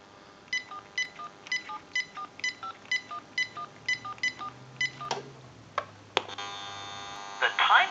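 A rapid sequence of about a dozen evenly spaced touch-tone beeps from a General Electric 6.0 Model 27909 cordless telephone dialing a time and temperature number, followed by clicks and a steady line tone.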